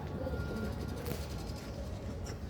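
Many pigeons of Giribaz, Kaldama and Madrasi breeds murmur in rows of small coops, a low rolling cooing that continues faintly and steadily throughout, with no talk over it.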